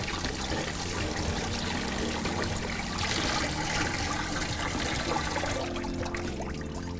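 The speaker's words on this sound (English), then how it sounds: "back flush it through with the tap as well" Tap water runs steadily through an ITG air filter being back-flushed, a continuous loud splashing rush that swells in the middle and thins toward the end, with no voices.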